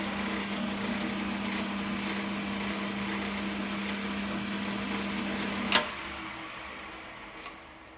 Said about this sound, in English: Wait for the drill to stop.